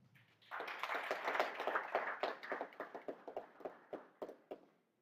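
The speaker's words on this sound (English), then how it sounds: "Let's give them another round of applause." Applause from a crowd at a youth democracy forum in Wisconsin swells quickly, then thins into scattered, separate claps before fading out.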